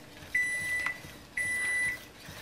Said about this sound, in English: that's my microwave. I thought, what's beeping?